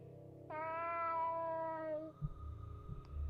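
A cat meows once in the horror video game Fear & Hunger, a long drawn-out tonal cry lasting over a second and a half, followed by quiet low rumbling ambience.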